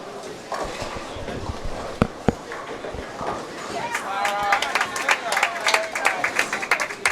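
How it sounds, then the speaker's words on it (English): Applause at the Parker Bohn III Scholarship bowling tournament: scattered, fairly faint clapping that swells in the second half, with people talking throughout and a couple of sharp knocks earlier. "The applause you heard was Lara Kurt making the 1-2-8-10"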